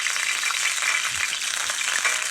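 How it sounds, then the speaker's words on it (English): Salmon sizzles in hot oil in a pan, a dense steady crackling hiss that holds throughout, close and fairly loud, alone without talk. "it starts to sizzle more because it's pulling out moisture"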